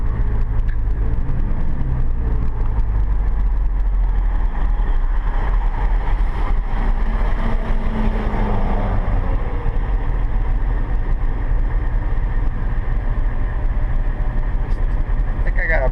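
Duramax diesel pickup truck cruising along, a steady low engine and road rumble holding constant throughout with some faint voices under it.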